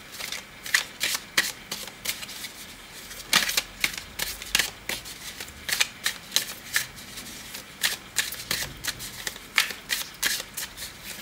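Tarot cards shuffled for a reading, repeated riffling bursts of crisp card flutter in an irregular rhythm, close and clear with no talk.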